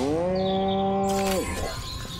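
A cow in the video game Destroy All Humans! gives one loud, close, drawn-out moo that breaks off into a rougher, noisier tail, with no talk over it.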